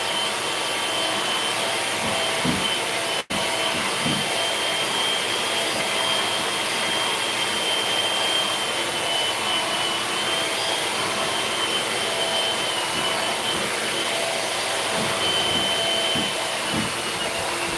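Loud, steady whirring drone of a kitchen mixer running continuously, with faint thumps and rattles underneath.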